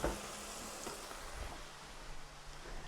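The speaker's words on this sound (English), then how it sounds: "we want to cook the onions until they go transparent" Onions for pork tenderloin in pepper sauce cooking in a pan, a faint, steady hiss of sizzling with no talking.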